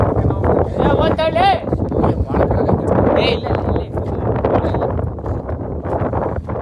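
Strong wind on a foggy hilltop near a temple in Chikmagalur roars and buffets the microphone steadily and loudly throughout, with people talking underneath.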